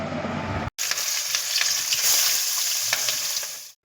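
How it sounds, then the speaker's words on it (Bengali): A fish head drops into hot oil in a kadai and erupts into loud, close, steady crackling sizzle that continues until an abrupt cut near the end. "তেলটা গরম হয়ে গেলে এবার আমি মাছের মাথাটা দিয়ে দিলাম"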